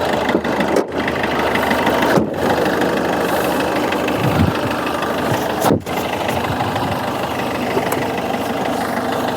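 A Maruti Swift Dzire diesel car engine idles steadily at close range, a continuous low rumble with a few brief dips, and no talk over it.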